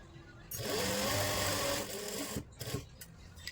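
Domestic sewing machine stitching a lined kurti, running in a steady loud burst for over a second, then slowing and stopping, followed by a few short clicks and handling noises.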